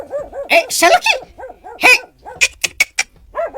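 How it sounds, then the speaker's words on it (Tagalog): A dog barks in an Ilocano radio drama, giving a rapid run of yapping barks close to the listener, mixed with a voice shouting over them. "Asino nga ti tataulan di aso may?"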